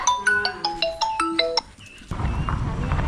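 A phone ringtone plays a quick bright melodic pattern of short repeated tones for about two seconds, then cuts off, leaving a rumbling background noise.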